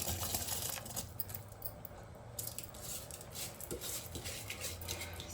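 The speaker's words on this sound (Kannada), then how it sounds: "ಈಗ ಕುದೀತಾ ಇದೆ ಒಂದು ಸ್ವಲ್ಪ. ಸೊ ಈಗ ಅಕ್ಕಿ ಹಾಕ್ಕೊಳ್ತಾ ಇದ್ದೀನಿ" Rice is poured into a pot of gently boiling water in a home kitchen over low flame. Soft patters and light clinks of a utensil against the pot sound faint and close, with no speech.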